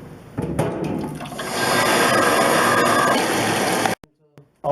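Water gushes loudly from a tap into a wine-making bucket holding juice to top it up to 23 litres, a close, steady rush of filling that stops abruptly near the end, followed by brief speech.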